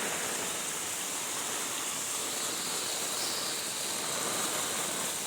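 Floodwater rushing steadily during a cloudburst downpour in a village near Kankavli, with roads and rice fields underwater; a dense, unbroken roar of water and rain at close range, with no voices heard.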